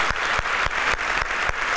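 Audience applause in a studio hall during a Turkish open-mic talk show, steady dense clapping from a crowd with sharp periodic louder claps throughout.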